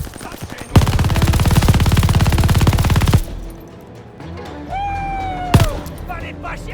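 Sustained machine gun fire in a Call of Duty Vanguard battle, a loud rapid burst lasting a few seconds, then a quieter stretch with whistling tones and a sharp bang.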